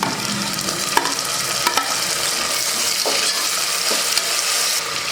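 Tomato going into onion and ginger-garlic paste frying in a pan for moong dal kanji, a dense, loud, continuous sizzle with a few faint utensil scrapes and taps, no speech.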